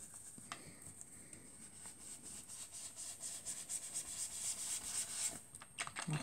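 A brush spreads ink across a card to build a gradient background, producing faint, soft rubbing strokes in a loose repeating rhythm.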